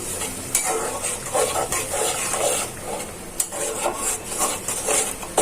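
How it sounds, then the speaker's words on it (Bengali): Chili and cumin powder masala is stir-fried with prawns in a pan. A continuous sizzle runs under repeated scraping stirs and light clinks of a spoon against the pan, close and fairly loud, with no talk. "মশলাটা ভালো করে কষিয়ে নিই।"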